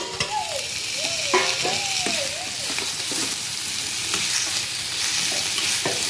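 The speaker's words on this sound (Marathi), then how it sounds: "आता आपण ह्याच्यामध्ये 1-2 टोमॅटो घेतलेले आहेत, ते घालून घेऊया।" Chopped tomatoes drop into reddened onions in a hot pan and fry with a steady sizzle, broken by a few clinks and scrapes of stirring, with no voices.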